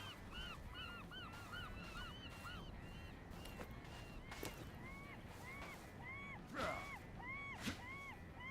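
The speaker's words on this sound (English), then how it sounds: "Freaking seagulls." Seagulls call repeatedly in a steady, overlapping chorus of honking cries, some near and some distant, with no speech.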